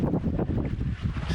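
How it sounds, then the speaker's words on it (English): Gusty wind buffets the microphone on the Western Australian coast between Geraldton and Shark Bay, a steady low roar with irregular swells that carries on throughout. "It's windy."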